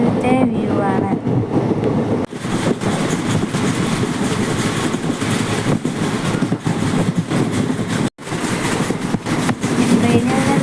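A passenger train on the way to Palani rumbles along steadily with loud, continuous wheel and carriage noise close by and brief clattering dropouts. It is heard from inside the carriage.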